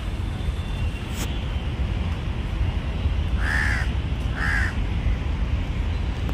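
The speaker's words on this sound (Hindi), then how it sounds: "ये रहा कौआ" A crow caws twice, clear and moderately distant, over a constant rumbling background of traffic or machinery.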